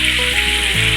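Tofu pieces frying in hot oil give a steady, loud, close sizzle with a continuous crackling hiss and no talking.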